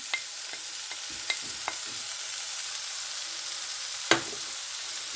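Grated tomatoes fry with minced meat in a pan, giving a steady soft sizzle with a few light stirring clicks and one louder utensil knock near the end.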